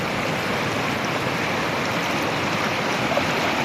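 A river flows through mountainous terrain, producing a steady, broadband rush of water that holds constant and close throughout, with no voices.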